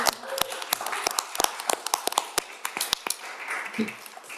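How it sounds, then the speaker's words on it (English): A small, scattered round of applause breaks out among a few people at a Metro Council work session, with sharp, irregular hand claps close by over a quiet room and a brief murmur near the end. "A little round of applause, I think, for getting to this point"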